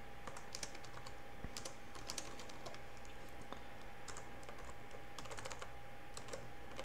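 Code is typed on a computer keyboard in a quiet room, a steady run of soft, close key clicks in irregular bursts over faint background hum.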